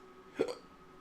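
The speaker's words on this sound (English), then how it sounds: "Hiccups. Sorry, excuse me." A single short hiccup from a man, close and fairly faint, against a quiet background.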